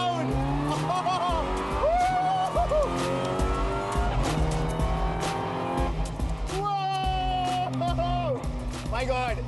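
Race cars at Kari Motor Speedway roar past close by with loud, continuous engine whine and rising and falling pitch sweeps as they shift gears, while voices talk over the noise.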